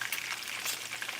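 Rice and vegetables sizzle and crackle in a hot pan as they're tossed, a close, busy frying hiss.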